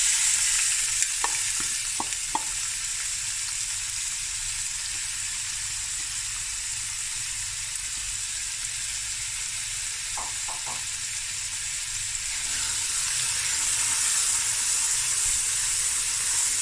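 Finely chopped onions for a Cape Malay lamb curry fry in a pot, making a steady, fairly quiet sizzling hiss broken by a few light clinks of a utensil against the pot.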